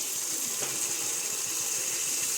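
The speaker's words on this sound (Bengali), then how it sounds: "একটু জল দিয়ে দেবো।" Water being poured into a simmering curry for a doi katla (yogurt fish) dish makes a steady, close gushing splash that runs the whole time, with no talking.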